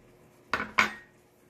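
Two quick clinks of a metal utensil against a dish while scooping cooked spaghetti squash, close and crisp in an otherwise quiet room.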